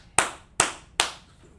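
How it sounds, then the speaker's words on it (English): Three sharp, loud claps from a class, evenly spaced about four tenths of a second apart, each fading quickly, with no talking. "Let's clap it up in class."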